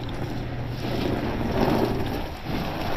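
Strong wind gusting outdoors near open water, a loud continuous roar buffeting the microphone with swelling surges and no voices.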